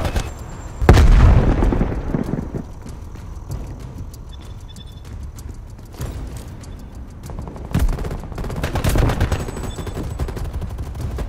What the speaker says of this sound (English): Throwing frag grenade.